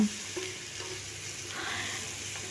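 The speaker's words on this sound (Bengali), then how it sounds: "এরপর সব মানে মশলাগুলোকে খুব ভালো করে আমি কষিয়ে নেব" Spices frying in a pan for chicken masala give off a steady, soft sizzle with light scraping, even and close throughout.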